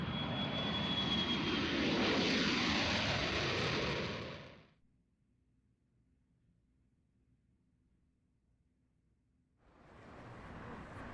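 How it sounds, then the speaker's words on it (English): A jet in the Yakuza 3 Remastered video game roars past loudly for about four seconds and cuts off abruptly, leaving near silence before the engine noise swells back in. "at least we got to see the cool jet"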